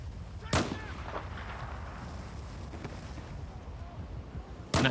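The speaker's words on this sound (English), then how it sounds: "I'm not really good at sniper shooting" Two sharp, loud sniper rifle shots in a video game, about four seconds apart, ring out over a low, steady background hiss.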